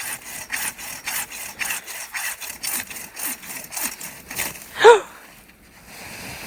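A tree is cut down with a saw in a remote rural village in Canada's Yukon, a steady run of close rhythmic sawing strokes ending in one brief crack-and-swish as the bushy trunk drops into surrounding bushes, then quiet.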